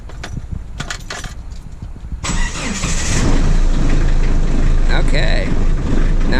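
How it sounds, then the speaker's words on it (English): A diesel engine cranks and catches after its glow plugs have been preheated, then settles into a loud, steady running roar. Voices talk over it, with a quieter rattling stretch before the start. "now start the engine."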